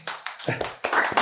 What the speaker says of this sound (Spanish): ¿salen sus aplausos?